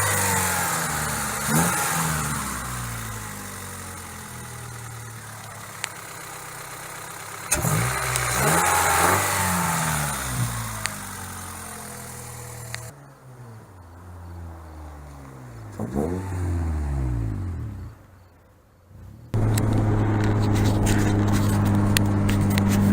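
A turbocharged Honda D16 swap engine runs up close. It revs up and down repeatedly with rising and falling sweeps, settles into a quieter idle stretch, then returns to a loud, steady drone near the end.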